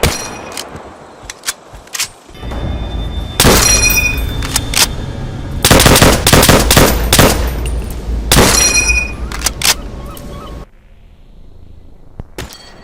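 Rapid semi-automatic MX Garand rifle shots in Black Ops 3, sharp close cracks in clusters with metallic pings, then clicking and clacking of an empty reload as the firing gives way to quieter handling sounds.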